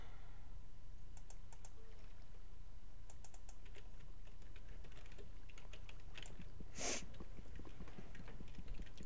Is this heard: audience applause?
no